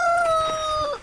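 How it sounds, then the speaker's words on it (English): A rooster crows at a caravan park, Apex Park in Longreach: one close, loud, drawn-out note that drops slightly in pitch before cutting off, with no voices. "Here you can see our little rooster friends that wake us up at 4 o'clock every morning."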